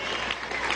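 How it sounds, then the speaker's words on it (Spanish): Dense applause from a crowd for a teacher at a political commemorative event in Venezuela, a continuous wash of clapping with no clear gaps, heard at moderate level for a brief moment. "un aplauso para el profe"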